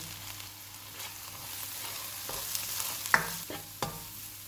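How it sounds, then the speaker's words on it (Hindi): Ginger-garlic paste frying and being stirred in a pan for an egg and potato curry, a continuous soft sizzle with occasional scraping strokes and clinks of the spoon, close and moderately quiet. "6 मिनट के बाद 1 टेबल स्पून अदरक और लहसुन का पेस्ट डालेंगे। इसको 2 मिनट तक भूनेंगे।"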